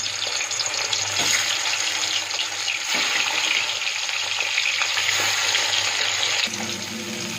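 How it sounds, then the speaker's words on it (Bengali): Katla fish pieces rubbed with salt and turmeric sizzle in hot mustard oil, a steady hissing crackle that holds near and fairly loud for several seconds, then eases slightly at the end. "তেলটা গরম হয়ে গেছে, দিয়ে দিচ্ছি নুন হলুদ মাখানো"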